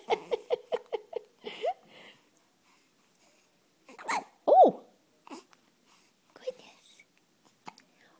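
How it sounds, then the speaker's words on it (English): A long series of hiccups: a quick run of about seven short, evenly spaced bursts, then a few scattered, louder catches after a quiet gap, all fairly close. "This is a long series of hiccups."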